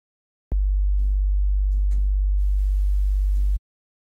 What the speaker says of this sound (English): use white noise at zero and just very slowly work it in